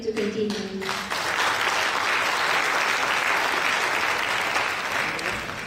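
A community event audience claps, starting after a brief bit of talk and music, then settling into full, even applause that stays loud and continuous to the end.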